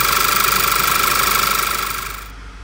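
A Volkswagen Passat B7 with a 1.8 TSI engine idles, previously rough with misfiring and whistling. It now runs loud, close and even with a steady pulsing hum, then fades slightly at the end.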